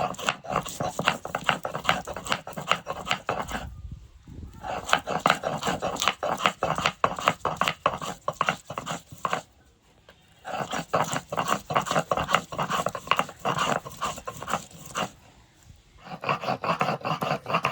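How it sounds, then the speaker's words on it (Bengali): Ginger and garlic being ground on a grinding stone, a rhythmic rasping scrape repeated in long runs with brief pauses, close and fairly loud. "আদা রসুনটা বেটে নেব।"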